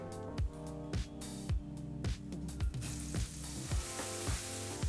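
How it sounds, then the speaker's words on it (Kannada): Pieces of ridge gourd crackle with a soft, steady sizzle in a hot pan as they are stirred, partly buried under rhythmic background music with regular beats. "ಈಗ ಈ ಹೀರೆಕಾಯಿನ ಒಂದು 2 ನಿಮಿಷ ಈ ರೀತಿ ಬೆರೆಸ್ತಾ ಬಿಸಿ ಮಾಡ್ಕೋಬೇಕಾಗತ್ತೆ."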